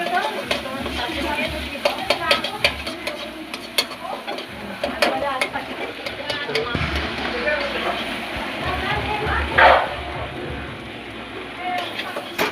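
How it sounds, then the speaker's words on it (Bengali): Four eggs fry with potatoes and other vegetables in a hot pan, giving a steady sizzle broken by scraping stirs and sharp clicks of a utensil against the pan, close and fairly loud. "এবার 4টে ডিম দিলাম, ভাজছি।"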